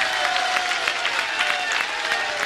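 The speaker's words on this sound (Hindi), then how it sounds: "ये तालियां, ये सब तालियां," Sustained applause from a large audience at a religious discourse in Indore, dense continuous clapping filling the whole stretch without pause.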